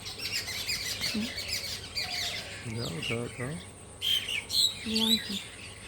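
Small birds chirp and tweet nearby while feeding, their short bright calls coming in scattered bursts with a few squawkier notes, and a voice is heard faintly at times.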